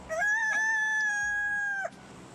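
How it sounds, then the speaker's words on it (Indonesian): A single loud, drawn-out rooster crow from an offline poker video game rings out clearly for nearly two seconds, then cuts off abruptly into quiet. "Game Ada poker. suara ayam. Ada suara ayam."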